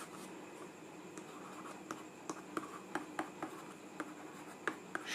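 Pen writing on paper, a scratchy stroke sound with regular light taps as words are formed, close and quiet with no talking.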